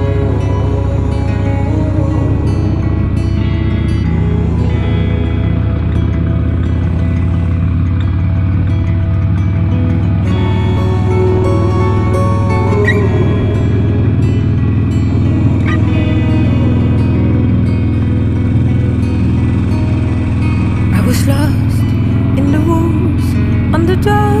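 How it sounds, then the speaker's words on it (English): A Harley Davidson Sportster's old carbureted big V-twin engine runs with a steady, loud low rumble and occasional revs that briefly lift the pitch, close by for the whole stretch, with some faint talk mixed in. "it's an old carbureted big V-twin"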